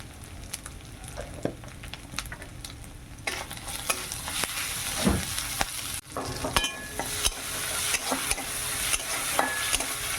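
Ground turmeric and chilli frying with potatoes in a pan, sizzling steadily close up while a spoon scrapes and stirs at intervals, growing louder midway with no voices.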